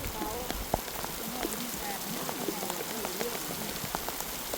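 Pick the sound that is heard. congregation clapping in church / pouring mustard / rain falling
rain falling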